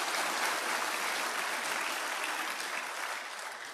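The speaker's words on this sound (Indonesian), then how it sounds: "Tolong berikan tepuk tangan saya." An audience claps at a motivational seminar, dense sustained applause heard at moderate distance that holds steady and fades slightly near the end, with no talk over it.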